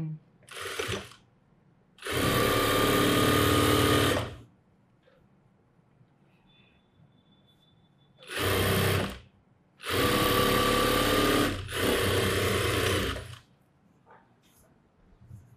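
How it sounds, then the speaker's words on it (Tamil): Sewing machine stitching lining and fabric together for an umbrella churidar, running in several loud, steady whirring bursts of a few seconds each, separated by quiet pauses. "லைனிங்கும் மெட்டீரியலும் சேர்த்து ரெண்டையும் சேர்த்து தையல் போடுறேன்."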